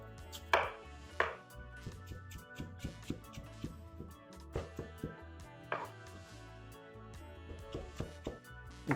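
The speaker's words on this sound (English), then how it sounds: "And then I'm gonna julienne the chocho" A knife julienning a peeled, halved chocho (chayote) on a cutting board, giving quick, irregular chopping taps at close range that are sometimes rapid and sometimes spaced out.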